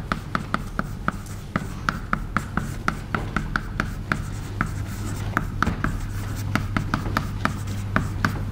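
Chalk or pen writing out an equation by hand during a numerical methods lecture, rapid scratchy taps and strokes in a steady irregular rhythm, close and continuous without speech.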